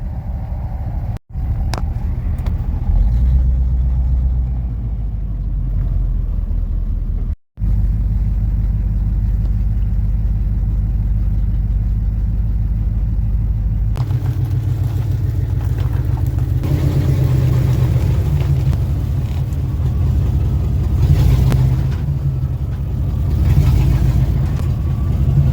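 Pickup truck engine idling in four-wheel-drive low while pushing a dead Ford F150 toward a garage, a steady low rumble close by that thickens and grows rougher partway through, with two brief dropouts.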